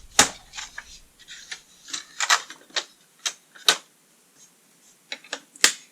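An HP DeskJet 2620 inkjet printer feeds paper and prints, giving a string of sharp, close mechanical clicks and short whirring bursts at irregular intervals, with quiet pauses between.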